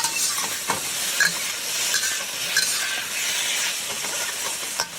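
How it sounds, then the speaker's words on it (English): Scallops and prawns stir-frying in a hot wok with peanut oil, a steady broadband sizzle with scattered scraping clinks of the utensil against the pan, close and continuous throughout, no voices. "Do a quick stir fry for 45 seconds to a minute."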